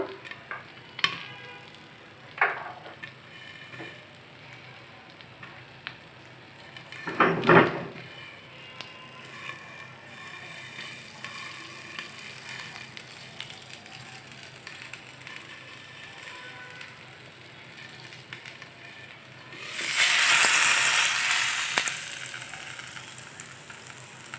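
Masala popcorn frying in a pot on a stove gives sparse, scattered pops and ticks over a low background hiss, with a louder rushing surge near the end.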